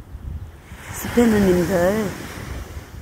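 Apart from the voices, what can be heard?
ocean waves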